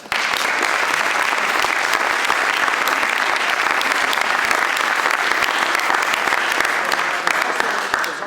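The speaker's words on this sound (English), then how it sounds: "let's have a round of applause for Lisette" Steady applause from an audience at an Air Force commissioning ceremony for a new lieutenant, dense and sustained at an even level throughout without letup.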